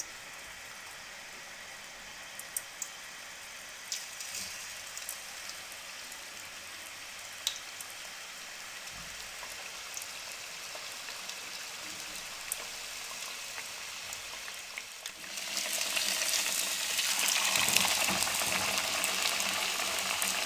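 Samosas fry in cooking oil over a low flame, giving a quiet sizzle with scattered pops that swells into a loud, dense bubbling hiss partway through.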